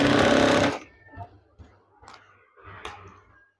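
A sewing machine stitches curtain fabric in a loud, steady burst that runs for about half a second, then stops. Only faint, scattered handling noises follow.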